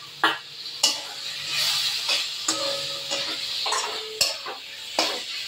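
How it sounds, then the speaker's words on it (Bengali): Potato pieces sizzling with spice paste in oil for katla kalia fish curry, stirred briskly so a ladle scrapes and knocks against the pan in repeated sharp strokes over a constant close fry. "এবার কিন্তু আমি একটু আলুগুলো দিয়ে কষিয়ে নেব।"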